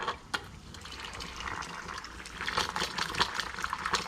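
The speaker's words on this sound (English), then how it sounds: "This is my favorite feature in the kitchen, the boiling water dispenser." Boiling water dispenser in a home kitchen filling with hot water, a steady close hiss of running liquid that grows busier and splashier toward the end, with no voices.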